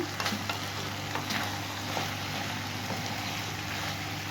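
Chicken fajita strips sizzle and crackle loudly in a hot pan as they are turned over, a dense continuous frying hiss with scattered stirring scrapes close by.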